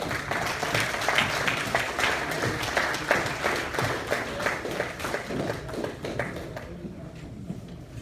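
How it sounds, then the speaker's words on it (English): A crowd applauds steadily, dense clapping from many hands that carries on throughout and eases slightly toward the end. "please give him a round of applause"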